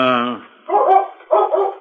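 A collie barks in a radio drama, with a long whining yelp followed by two sharp, close barks, loud and alone.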